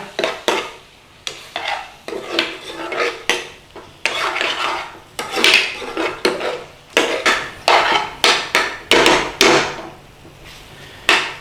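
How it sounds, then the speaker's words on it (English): Metal spoon stirring peppers and onions in a pan for a chicken tikka bhuna curry, a run of close, sharp scraping and clanking strokes in irregular bursts, with no voice. "Give that a stir through."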